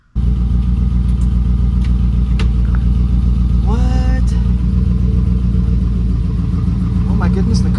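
A Mercedes engine runs steadily as the car moves along a driveway, a loud continuous low drone close by, with a brief rising tone partway through.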